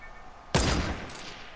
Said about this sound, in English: They're getting shot at by somebody else.